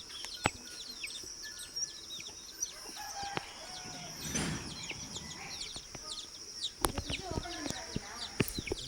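Chickens cluck and squawk sporadically nearby, with a rooster crowing now and then over a faint outdoor background.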